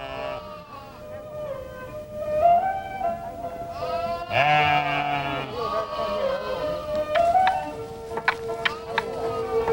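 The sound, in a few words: flock of sheep and goats bleating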